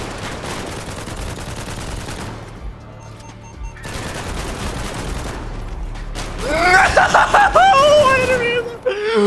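Rapid bursts of automatic pistol fire in GTA 5 rattle through a dense, busy mix, close and loud, with voices talking and groaning over the shots.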